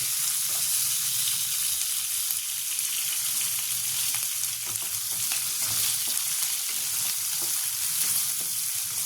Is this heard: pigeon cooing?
no